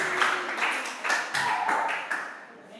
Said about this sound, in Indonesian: coba tepuk tangan ulang untuk nomor 1 dulu